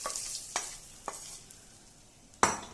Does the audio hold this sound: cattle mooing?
no